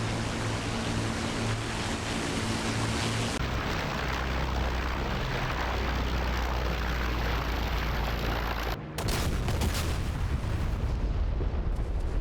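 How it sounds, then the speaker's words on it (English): Bombs explode during an air raid on Amiens prison, a dense, continuous roar of blasts and rumbling debris with a brief break before the din resumes. "concussions from the explosions have forced open the cell doors as intended"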